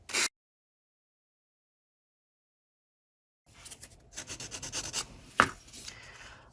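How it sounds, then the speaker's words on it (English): A jewelry piece hand sanded with 180 grit sandpaper: a brief scrape, three seconds of silence, then a run of close, quick rubbing strokes at varying loudness with one sharper knock near the end. "I'm just gonna get after it and get started with the 180 sandpaper."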